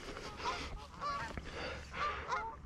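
Canada geese honking during a preseason goose hunt over decoys, repeated loud calls from several birds in overlapping bursts, fairly close and steady across the whole stretch with no talk.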